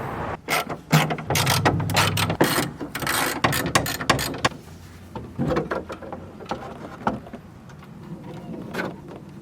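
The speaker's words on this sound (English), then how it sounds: "Now the headlight can move up and down freely without any issues." A Corvette pop-up headlight mechanism is cycled up and down while being repaired, giving a series of close mechanical clicks, ratcheting clatters and short whirring runs with brief pauses between them.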